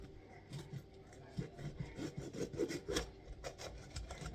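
A knife slicing through a green pepper on a cutting board, giving repeated rough, scraping cuts at close range with a steady rubbing texture and no talk.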